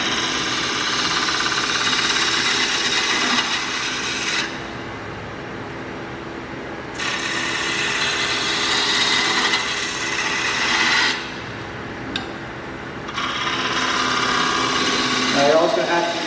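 A wooden peppermill blank spins on a lathe as a tool cuts into a corner, a loud continuous rasping roar that drops off in two short pauses before resuming.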